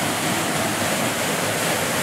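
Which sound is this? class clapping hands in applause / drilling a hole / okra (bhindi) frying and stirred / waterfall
waterfall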